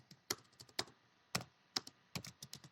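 Someone types on a computer keyboard in a Jupyter notebook. Quick, close key clacks come in uneven bursts with a few louder strikes and a faster flurry near the end.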